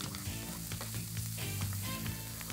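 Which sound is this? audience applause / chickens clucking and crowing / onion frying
onion frying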